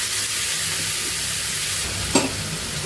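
Raw banana pieces fry in a small kadai, giving a steady, moderate sizzle and hiss, broken once by a brief utensil clink.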